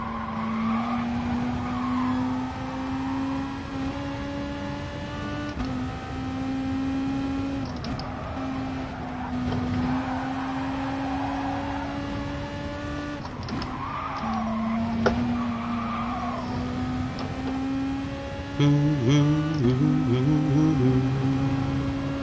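Race cars in the Gran Turismo Sport video game brake and swerve: a loud, continuous engine drone rises and falls in pitch, broken by several sharp tire squeals and a burst of skidding near the end.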